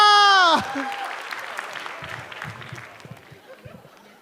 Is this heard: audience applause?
yes